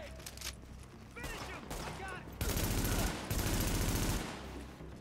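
Gunfire in the video game Tom Clancy's The Division, with sustained bursts of rapid shots that grow louder and denser midway, mixed with other game noise over a steady background.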